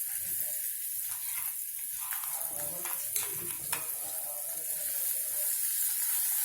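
Ground ponnaganti leaf chutney tipped into a hot tempering of spices in a pan, giving a steady hissing sizzle with a few soft scrapes of stirring, close and continuous with no talk.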